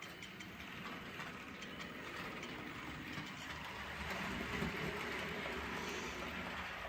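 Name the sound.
model railway locomotive with new chip running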